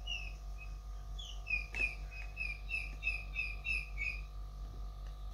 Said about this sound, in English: Birds chirping away